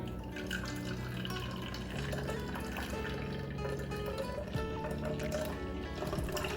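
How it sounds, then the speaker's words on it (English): Juice pours and trickles into a glass, a quiet close-up gurgling fill that runs steadily throughout. "And then I'll pour it in my lovely glass."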